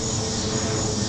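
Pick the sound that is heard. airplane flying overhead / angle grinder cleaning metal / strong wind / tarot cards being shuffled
airplane flying overhead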